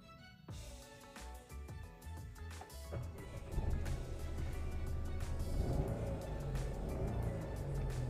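A Nissan Magnite's engine starts with a sharp catch and settles into a low hum, then revs up and holds a rising, louder drone, heard close from inside the car with no talk.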